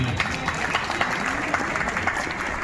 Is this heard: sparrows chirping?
no